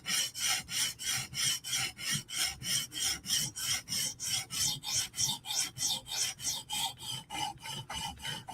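A Hinderer knife edge stroked against a sharpening stone, forming a burr on the steel: a steady, close rasping scrape repeating about three times per second, bright and gritty, with no voices.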